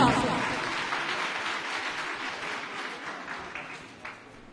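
Audience at a children's speech competition clapping to welcome a student speaker, a steady crowd applause that gradually tapers off, moderately loud and slightly distant.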